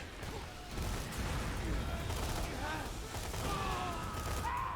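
Grenade explosion and sustained gunfire in Borderlands 2 combat, a dense continuous wash of shots and impacts with a louder burst early on and metallic tonal effects toward the end.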